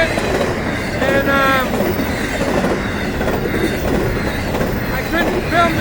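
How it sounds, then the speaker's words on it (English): A train passes near Ocean Grove, St. Augustine Beach, with a steady loud rumble of railcars and clickety-clack wheels, brief squeals of wheels on the rails, and a voice speaking faintly underneath. "hopefully this train comes right along"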